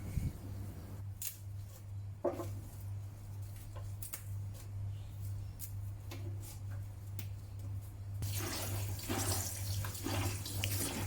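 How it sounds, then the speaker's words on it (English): Chinese red spinach is rinsed under running tap water in a sink, a soft steady water flow with intermittent splashes and clicks as leaves are handled, the stream getting louder and fuller toward the end. "The spinach may contain some dirt and sand, which I always wash thoroughly before cooking."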